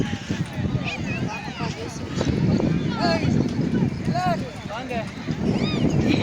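Horse hooves clip-clop along Marina Beach amid steady crowd noise and wind, with people talking over the rhythmic steps throughout.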